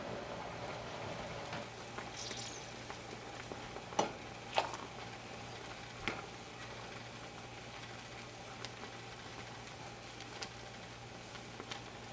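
Split pea soup at a full boil in a pot, with foam on the surface, gives a steady low bubbling hiss throughout, broken by a few sharp clinks.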